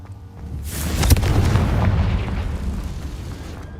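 A Confringo fire curse explodes in the Hogwarts Legacy video game, one loud blast with a crackling attack that swells into a broad roaring rumble and slowly fades, with no talking.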